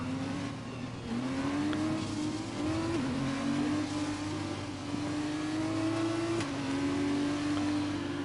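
Formula 2 race cars roar steadily at a Bahrain circuit, their engine notes rising in repeated upshifting sweeps, loud and continuous with no talk over them.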